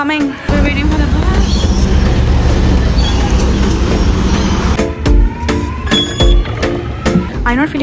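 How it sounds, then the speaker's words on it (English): Passenger train bound for Epping pulling into a station, with a loud steady rumble of the carriages and wheel noise that eases off into clunks and a brake squeal near the end. "So this is our train to Epping."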